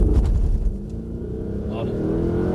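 Mercedes C63 AMG accelerating hard from inside the cabin, a deep, loud engine roar that rises steadily in pitch with a raspy edge, voices faintly present underneath.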